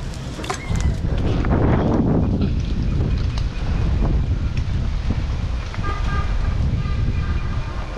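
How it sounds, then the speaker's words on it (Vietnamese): Strong late-afternoon wind gusts steadily across an open outdoor spot where a large dipterocarp tree is being cut, a continuous broadband rush with microphone buffeting and faint distant vehicle sounds beneath. "gió hơi mạnh à"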